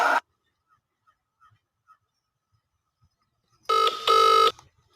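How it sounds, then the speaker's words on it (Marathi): A telephone rings with a short electronic trill at the start, then a pause of near silence, followed by two more close, loud ring bursts. "आत्ताच्या आत्ता तिला फोन लावायचा."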